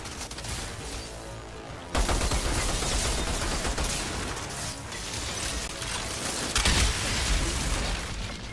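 Sniper and rifle fire in the shooter Outriders rattles out in dense, continuous volleys, with sharp louder bursts near two and seven seconds over a steady din of combat.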